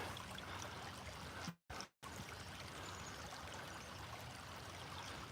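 Creek water flows beside prehistoric stonework in North Carolina, a steady close rush broken by a brief dropout of a fraction of a second near the start.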